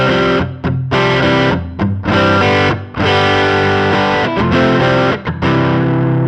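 Overdriven electric guitar played through a Line 6 Pod Go amp model, dense distorted chords and riffs ringing loud and close with short choppy gaps between phrases.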